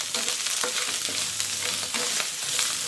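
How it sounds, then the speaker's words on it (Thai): Thai red curry paste sizzles and crackles in hot oil, with scraping stirs against the pan at intervals and a faint low hum of a washing machine in the background. "ผัดพริกแกงให้หอมก่อนนะคะ"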